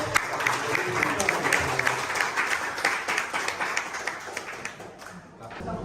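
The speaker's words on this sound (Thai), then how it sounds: "ขอปรบมือต้อนรับท่านผู้ว่าการภาคจักรชัยสุธรุมครับ" Audience applause welcoming a district governor at a Rotary gathering, a steady wash of clapping with some individual claps standing out and talk underneath, fading slightly toward the end.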